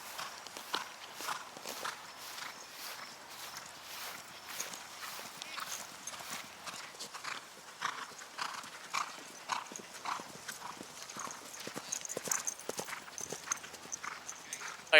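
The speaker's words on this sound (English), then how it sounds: "Beautiful horses." Horses walking at a horse farm near Lexington, Kentucky, hooves clip-clopping in a steady, continuous rhythm at moderate distance, with no talk over them.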